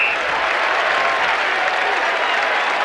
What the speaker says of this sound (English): And the Essendon fans applaud Timmy Watson.